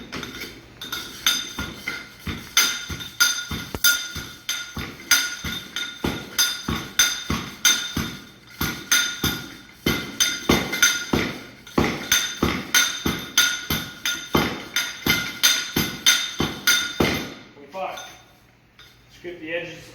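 A Proctor hammer compacts soil in a mold, repeated sharp metallic blows falling in a steady rhythm for about seventeen seconds before stopping, loud and close.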